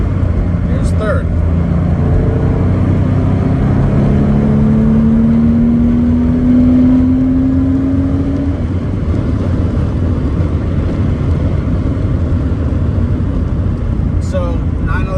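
A 1998 Porsche 911 C2 Cabriolet pulls hard in third gear, its engine note climbing steadily in pitch over several seconds before easing off, heard from inside the car over constant road and wind noise.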